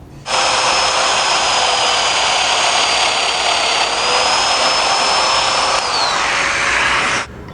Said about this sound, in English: Now I'm going to plunge 2 domino slots right here